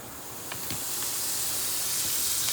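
Unsalted butter hitting a hot cast iron pan used for cooking bison steaks, a steady, loud sizzling hiss that builds slightly, with a few faint clicks and no talk.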